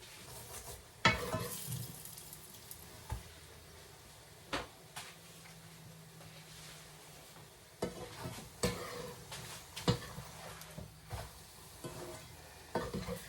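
Chapatis cook in oil on a pan with a steady, low sizzle, broken by sharp clacks and scrapes of utensils and pan handling at irregular intervals. No one speaks.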